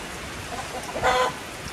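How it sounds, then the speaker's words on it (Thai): Heavy rain hisses steadily throughout at a fighting-rooster farm while a rooster crows briefly in the middle, somewhat distant. "ฝนตกหนักมากเลยนะครับ"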